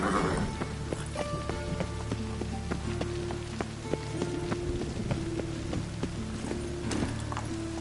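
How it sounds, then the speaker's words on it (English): Rain falls in a steady, close patter on a surface, joined by rhythmic clip-clopping hoofbeats and sustained tonal notes running throughout. "And it's raining again."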